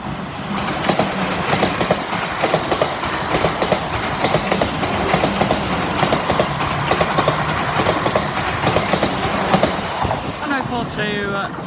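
A pair of class 444 electric trains rush past at speed, with a steady rolling roar and a rhythmic clickety-clack of wheels over rail joints, and a voice is briefly heard at the end.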